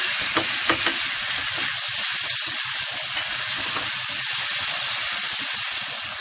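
Spices, including chaat masala, chilli and salt, roast in hot oil in a pan for tamarind potatoes, making a loud, close, continuous sizzle. A couple of light stirring taps sound early on.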